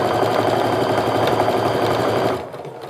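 A home sewing machine stitches quilt pieces at a fast, steady pace, its motor whirring with rapid needle clatter up close, then slows and stops near the end.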